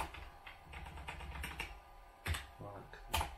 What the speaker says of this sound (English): Keyboard needs a clean desperately.